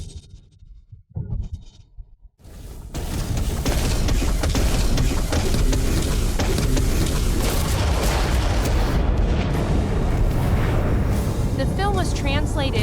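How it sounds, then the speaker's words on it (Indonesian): The main cannon of an aircraft carrier fires as an animated film effect: after a brief quieter passage, a huge sustained blast erupts into a loud, rumbling roar that carries on without break, with a voice briefly at the start. "Kekuatan meriam utama kapal induk Dirgantara."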